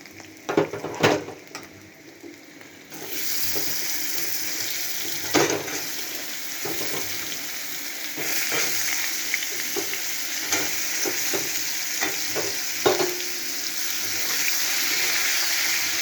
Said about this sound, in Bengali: আলু আর কাঁচকলাটা একটু তেলে ভাজা হয়ে যায়,